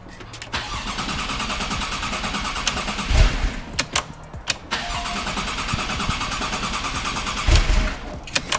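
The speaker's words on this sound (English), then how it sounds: "Maybe the car is gonna start." A flooded Porsche 911 Turbo S engine cranks and tries to start, loud and close, with two sharp catches or bursts around the middle and near the end amid a steady whirring cranking drone.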